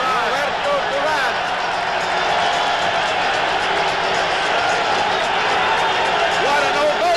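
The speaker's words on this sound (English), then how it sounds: "Listen to this crowd." A packed boxing arena crowd roars and applauds without pause as Roberto Duran enters the ring, a dense, loud wall of cheering with scattered whistles and shouts, with a commentator's voice on top.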